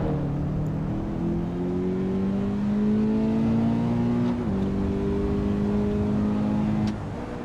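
A car engine held at high revs while drifting on a wet track in the racing game Assetto Corsa EVO, a steady, loud droning roar whose pitch wavers and dips slightly as the throttle shifts, running unbroken for several seconds before cutting off.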